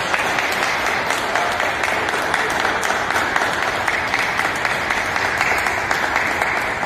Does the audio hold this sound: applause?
yes